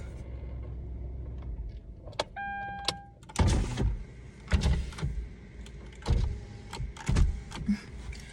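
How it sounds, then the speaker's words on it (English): A parked car being switched off, heard as a few close mechanical clunks and a short electronic chime, with thuds and faint background movement but no talking. "I'm gonna turn my car off."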